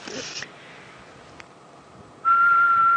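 A person whistles one steady, sustained note for under a second, imitating a grey-headed bushshrike during a safari drive, with a brief breathy burst earlier and quiet outdoor background between.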